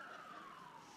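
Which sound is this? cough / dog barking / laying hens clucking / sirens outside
sirens outside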